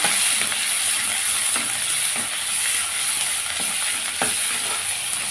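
Ginger garlic paste sizzles and crackles steadily in oil in a pan, with occasional sharp scrapes of a spoon stirring, close and continuous with no talking.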